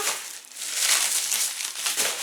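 Plastic bubble wrap packaging crinkles steadily and close up, a bright continuous rustle that swells and fades without pause.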